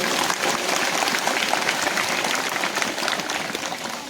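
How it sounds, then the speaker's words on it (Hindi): A church crowd claps for children at their first holy communion, giving dense, continuous applause that stays loud and steady throughout, with no voices standing out. "सभी को ताली बजा देंगे"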